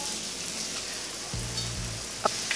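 Steady, crackling sizzle of cornflake-breaded chicken frying in a hot pan, continuous and close, with a brief clink near the end.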